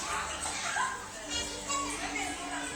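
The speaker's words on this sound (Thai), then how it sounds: "จะได้ยินเสียงเด็กๆอะค่ะนี่อยู่ในโรงเรียนนะ" Children play at a school in Ayutthaya, Thailand, their distant chatter and shouts forming a lively background while someone speaks close by.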